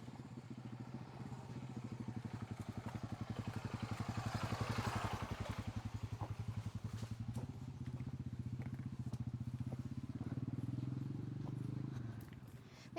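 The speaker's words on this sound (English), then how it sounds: "Oh, there's a motorbike." A motorbike goes by on a nature walk near Ino town, a rapid, putting engine rumble that swells and fades at a moderate distance over outdoor ambience.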